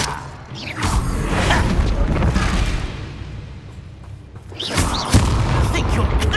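Expelliarmus disarming spell fired in the Hogwarts Legacy video game, heavy booming impacts and thuds in a loud combat mix, with a lull midway before another burst of blasts.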